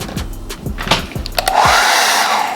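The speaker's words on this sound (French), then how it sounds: "Et ensuite je viens reprendre mon sèche-cheveux" A few brief clicks and handling noises, then a hair dryer switches on and blows steadily, close and loud, while styling glued-in hair.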